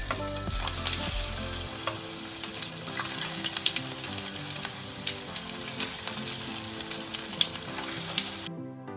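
Leftover rice cutlets frying in hot oil, a steady crackling sizzle with scattered pops and bubbling, close and continuous before cutting off abruptly at the end.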